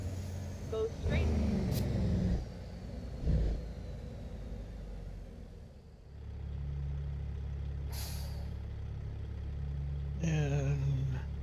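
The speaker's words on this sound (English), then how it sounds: "Can you hear the engine?" A truck engine in American Truck Simulator hums as a steady low rumble, joined by an air-brake hiss and a short hissing burst near the end, with a voice talking over the drive.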